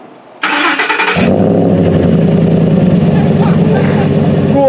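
A Ford F150 Gen 1 Raptor engine cranks briefly, then catches and settles into a loud, steady, rumbling idle close by.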